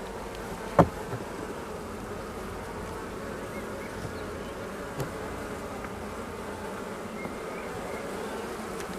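Honeybees buzz in a steady, dense drone close by during a hive inspection, with a single sharp knock near the start and a few faint clicks.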